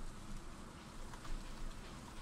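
Steady rain falls in the farming game Stardew Valley outside a library, a dense even hiss that continues throughout at moderate volume with no voices.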